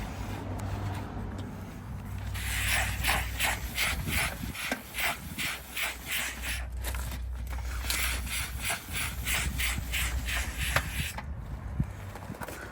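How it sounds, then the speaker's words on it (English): A close, steady hiss of a steam cleaner with rhythmic scrubbing strokes over a car carpet mat, repeating evenly throughout, with no talking. "I'm just going to steam the entire carpet."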